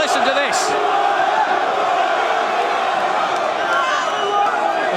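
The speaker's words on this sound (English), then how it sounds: "As many people cheering for him as booing against him." Large crowd at a boxing weigh-in in London, a sustained roar of mixed cheering and booing, loud and continuous with shouts rising above the din.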